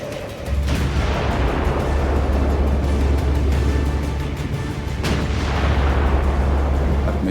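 Heavy, sustained rumbling booms of torpedoes striking ships in a WWII Allied convoy, including oil tankers, with a deep continuous roar and a second blast surge partway through, loud and close, no voices.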